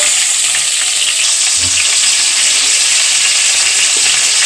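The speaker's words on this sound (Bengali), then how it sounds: "এবার কিউব করা পেঁয়াজগুলো দিয়ে দেবো।" Cubed onions hit hot oil in a kadai, giving a loud, steady frying sizzle that fills the whole stretch, with a faint stir or knock partway through and no talking.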